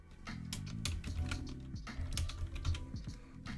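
Keys on a computer keyboard clatter in quick, uneven bursts of taps, close and moderately quiet, with nobody speaking.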